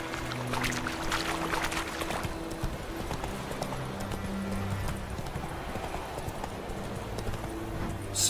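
Roach, the horse in The Witcher 3: Wild Hunt, clip-clopping steadily at a walk, hooves in an even rhythm over ambient game sound, with no talk.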